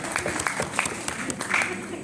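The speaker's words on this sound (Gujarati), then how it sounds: "સંદીપ ત્રિવેદી સાહેબ માટે એકવાર જોરદાર તાળીઓ થઈ જાય" An audience at the Ahmedabad Education annual general meeting claps for Sandeep Trivedi in a scattered burst of applause, with voices talking over the clapping throughout.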